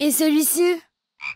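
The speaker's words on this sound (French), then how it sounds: "Une grenouille." A cartoon frog croaks in a few loud, close, throaty pulses, then goes quiet before a brief voice speaks.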